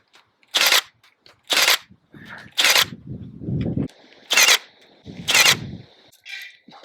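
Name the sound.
Milwaukee M18 18 gauge nail gun shooting into pine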